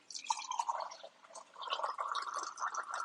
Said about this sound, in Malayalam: അപ്പം നമ്മൾ ഇതിലേക്ക് ഇനിയിപ്പം വെള്ളം ആഡ് ചെയ്യുകയാണ്.